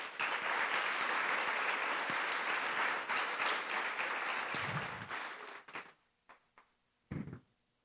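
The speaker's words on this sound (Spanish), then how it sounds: "Denle una ofrenda de aplauso al Señor" A church congregation at a Spanish-language worship service claps in a dense, loud, sustained ovation that thins after about five seconds into a few scattered, separate claps before fading out.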